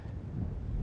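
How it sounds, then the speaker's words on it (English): Strong wind blowing across Eagle Lake during a muskie fishing outing, a brief low buffeting rumble hitting the microphone, with a steady gusty roar and no voices. "It is blowing out here on Eagle Lake today."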